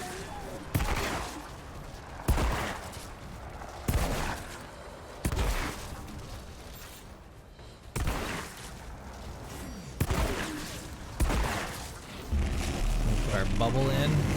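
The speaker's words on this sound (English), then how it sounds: "Swap out to this shotgun" Shotgun blasts in a video game, about eight heavy booming shots spaced a second or two apart, loud and close amid game noise, with a voice talking at points.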